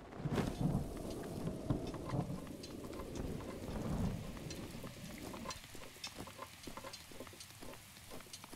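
Steady rain falls in The Legend of Zelda: Breath of the Wild, a soft continuous hiss with faint low rumbles, fairly quiet and with no talking over it.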